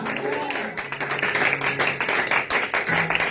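A church congregation claps and applauds for Jesus in a dense, steady wash of hands, with music and voices sounding underneath throughout.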